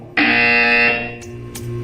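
A buzzer in the video game Portal 2: one loud, harsh, sustained electronic buzz lasting under a second, followed by two short fainter bleeps.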